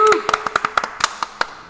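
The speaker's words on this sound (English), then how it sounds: "you get a better round of applause" A small crowd at a summer premier league night gives a sparse round of applause, about a dozen uneven, close claps, with a voice heard briefly at the start.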